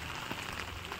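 Rain falls steadily on terrace garden plants with English marigolds, mango ginger and vegetables, a soft, even hiss of drops pattering on leaves and surfaces, continuous and moderately close.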